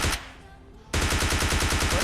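Automatic gunfire in the battle royale video game PUBG Lite: a single loud burst, a short lull, then a sustained rapid rattle of shots, loud and close.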